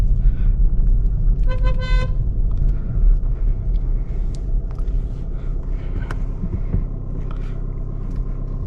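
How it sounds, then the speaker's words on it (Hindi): Road traffic jam in a hilly Kumaon-area town heard from inside a diesel car, with a low steady engine and road rumble and a sharp car horn toot near the start, then distant horns and street noise. "और अभी यहाँ थोड़ा सा ट्रैफिक लगा है, देखो आगे।"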